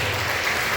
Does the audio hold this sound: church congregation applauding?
yes